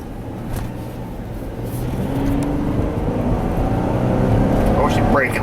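Dodge Grand Caravan with a 3.8 engine accelerating hard, the engine note rising steadily as the tires spin, heard close with a person speaking over it.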